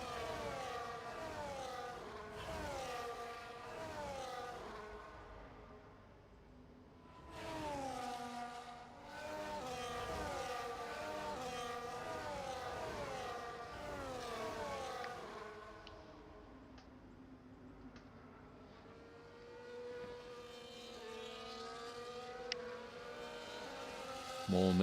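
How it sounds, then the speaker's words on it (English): F1 24 video game race cars at the Japan round, high-pitched engines wailing and shifting through gears, several cars passing in waves, moderately loud and alone. "Just the roar of the engines and nothing else."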